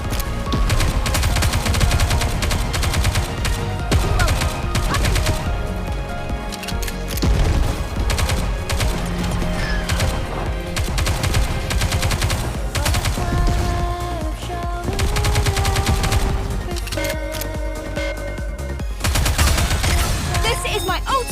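Sustained rapid gunfire in the mobile shooter Goddess of Victory: Nikke, dense continuous bursts running under game music and spoken voices for the whole stretch.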